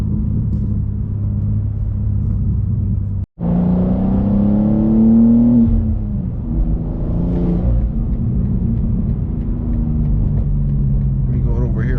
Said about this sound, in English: There go that car.